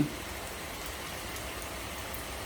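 Rain falls steadily in the early morning, a dense, even hiss that stays constant and fairly loud throughout with no voices.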